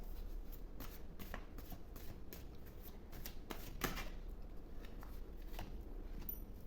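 Tarot cards are shuffled by hand in a quiet room, producing soft, rapid riffling and flicking sounds in a loose, continuous rhythm, close but faint.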